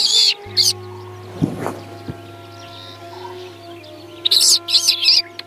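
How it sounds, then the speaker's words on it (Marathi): A red-vented bulbul perched on a treetop gives bright, bubbly chirping calls in short bursts at the start and end, outdoors among other birds, moderately close over a steady low hum. "बुलबुल रेड वेंटेड बुलबुल, ते टोकावरती बसलेला"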